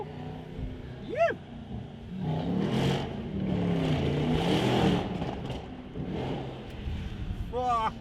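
A loud car engine revs and roars continuously, rising and falling in pitch, with short tire-like squeals at the start and end.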